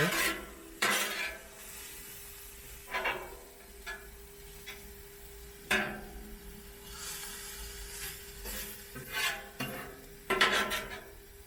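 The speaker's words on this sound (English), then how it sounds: "I'm going to use both my spatulas and get that incorporated, broken up" Two metal spatulas scraping and chopping onions and meat on a Blackstone griddle, with irregular clanks and scrapes over a quiet sizzle and a steady hum.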